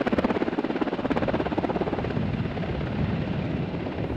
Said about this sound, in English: If you're interested in learning more about the helicopter the teachers flew in